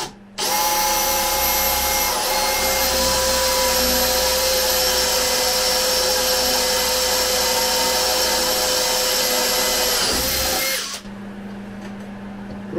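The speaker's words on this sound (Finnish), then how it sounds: "mä porroon nyt tuosta reijät niille ruuviloille" A power drill whines loud and steady for about ten seconds while boring screw holes in birch planks, then winds down and stops, leaving a lower background hum.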